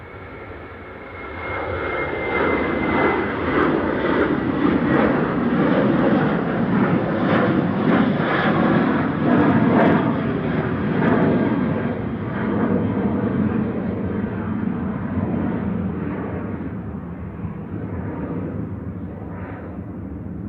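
A Norwegian Boeing 737-800 airliner takes off at Manchester Airport, its jet engines building into a broad, heavy roar that peaks and then slowly fades as the aircraft climbs away. No one speaks.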